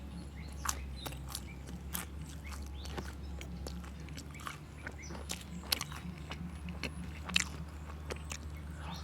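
Someone bites and chews a crispy, thin-crust pizza close to the mic, giving repeated sharp crunches at irregular intervals over a quiet background.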